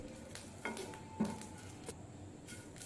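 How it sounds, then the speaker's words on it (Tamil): Curry leaves and drumstick leaves sautéing in hot oil for an idli podi, heard as a soft, steady sizzle with a few light stirring scrapes and clinks of a spoon against the pan, fairly close. "கருவேப்பிலையும் முருங்கைக்கீரையும் இந்த மாதிரி நல்ல முருவை வதக்கிக்கோங்க."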